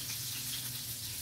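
Sardines frying in oil over a wood fire outdoors, a steady close hiss and crackle filling the short stretch with no one talking.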